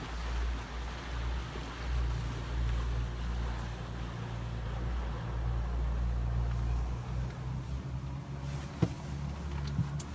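A powerful boat engine off the coast of southern Labrador drones steadily with a low, continuous rumble that rises and falls slightly, mixed with wind and water noise, fairly loud and alone without talk.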